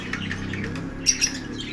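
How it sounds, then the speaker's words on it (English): Several birds squawk and chirp close by in a yard with chickens and other animals, short sharp calls standing out over a steady background of mixed bird noise. "There's so many birds here, you know, different birds."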